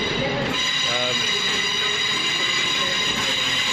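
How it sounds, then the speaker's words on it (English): A train rumbles along the rails with a continuous loud roar and metallic ringing, the wheels squealing faintly, heard from inside the carriage. "Trains are noisy."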